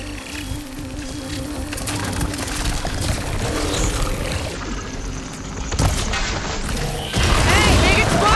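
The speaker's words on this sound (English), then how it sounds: "Hey, big explosion! Watch out!" In the video game Horizon Forbidden West, a detonation of glowing crystals produces a loud boom and crashing debris amid dense game effects and a continuous background rumble, with no talk.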